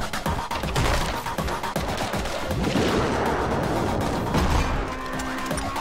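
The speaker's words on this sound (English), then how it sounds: "Oh, this is a rocket launcher of some sort." Rocket launcher firing and blasting in the action game Anger Foot, with dense, rapid loud bursts and crashes running continuously and close throughout.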